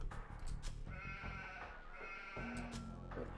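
Sheep bleating in the video game Age of Empires, with several short, wavering bleats close and clear over a steady low game background.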